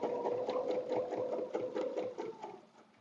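A sewing machine stitching a quilted bed runner, a steady whirring motor with rapid needle clatter running continuously, close and even before easing slightly at the end, without talking.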